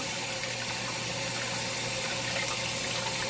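Cold running tap water pours steadily while a live crab is rinsed and cleaned in a kitchen sink, a continuous close, even splashing rush with no voices.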